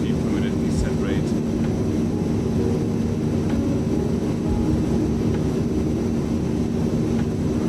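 A steady, droning engine hum from an aircraft descending in Microsoft Flight Simulator 2020 runs continuously and evenly throughout, with faint clicks and a few brief tones over it.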